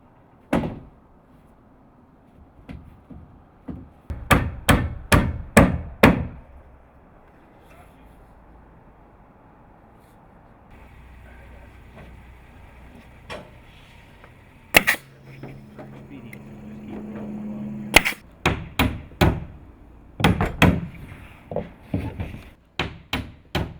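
Hammer blows driving nails through 2x4s into roof rafters over Tyvek on a cold-climate cathedral roof, heard as bursts of sharp, rapid strikes in several clusters, close and loud, with quieter pauses between.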